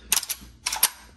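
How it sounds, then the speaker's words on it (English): A 10-round magazine is loaded into an RIA VRF14 12 gauge shotgun, giving two short bursts of sharp metallic clicks and clacks close up, separated by a brief pause, with no talking. "let me go ahead and put this 10 rounder in it so we can get a good look at it"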